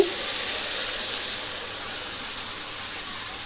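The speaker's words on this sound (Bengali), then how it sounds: "এবার আমি পরিমাণ মতো জল দিয়ে দিচ্ছি।" Water poured into a hot pan of Bengali-style soybean curry hisses into a loud, steady burst of steam that fades slightly over a few seconds, with no voices.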